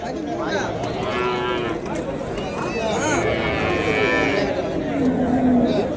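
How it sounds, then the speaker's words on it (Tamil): Large bulls at a cattle market in Uthangarai, Krishnagiri district, Tamil Nadu, mooing repeatedly with long low calls over a steady din of the busy livestock fair, while people talk nearby throughout. "இந்த பக்கம் பார்த்தீங்கன்னா பெரிய பெரிய காளைங்க"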